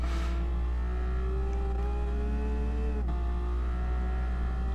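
Race car engine in a console racing sim game, a steady droning hum with rising and falling harmonic tones as the revs shift, one brief dip near the end, with no talk.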